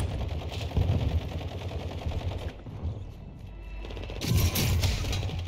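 Rapid automatic gunfire in the video game Warzone 2.0, sustained bursts of clattering shots with a brief lull midway before a loud renewed volley, close and dominant.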